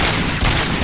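Dense burst of automatic gunfire in the RoboCop video game, rapid overlapping shots filling the whole moment at close range with no pause.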